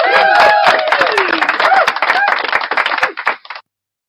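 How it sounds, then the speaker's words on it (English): A lively round of applause with quick, dense clapping, overlaid by cheering voices and someone talking, then cutting off abruptly. "Round of applause, ladies and gentlemen, for Frauditor News Network"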